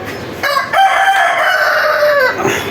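A country rooster kept with chickens and pigeons in a rickshaw garage crows once, loud and close, in a drawn-out call of about two seconds, with soft clucking around it.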